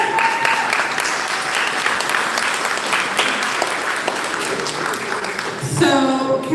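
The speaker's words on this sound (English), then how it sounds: "can we give a round of applause to these panelists?" An audience at a brunch event claps for a panel, a sustained, fairly dense round of applause throughout, with a voice rising near the end.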